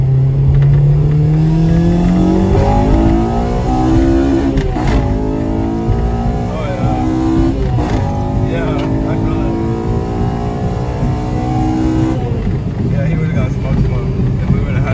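A Honda Civic DX with a swapped K20Z3 engine, manual gearbox and Type R throttle body pulls hard, its pitch climbing through several rising sweeps as it accelerates, with people talking over the loud droning motor.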